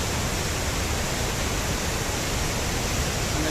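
A loud, steady roar of rushing water from the Tad Lo waterfall in Laos, unbroken and close, pouring without pause.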